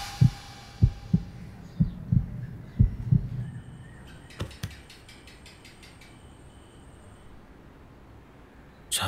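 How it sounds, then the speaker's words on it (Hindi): Fast heartbeat sound effect in a Hindi-dubbed film, a run of about eight loud, low thumps in quick rhythm, then mechanical ticking and a faint hum. "धड़कनें तेज हो गई है।"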